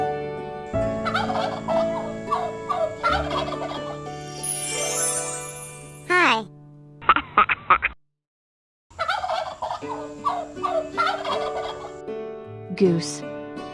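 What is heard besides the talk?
goose honking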